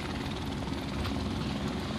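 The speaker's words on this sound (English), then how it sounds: "the helicopter is right above me" Helicopter hovering close overhead in the Modern Warfare Remastered shooter game, a steady loud rotor drone with throbbing engine noise filling the whole clip, no voices.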